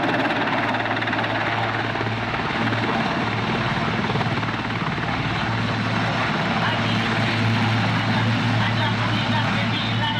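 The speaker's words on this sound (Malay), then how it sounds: "Tiga buah helikopter Nuri disediakan oleh pihak Tentera Udara Diraja Malaysia untuk membawa semua penduduk" Nuri military helicopters of the Royal Malaysian Air Force drone loudly and steadily throughout, a continuous rotor and engine roar with faint voices underneath.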